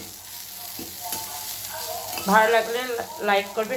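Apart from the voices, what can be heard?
pointed gourd peel frying in a pan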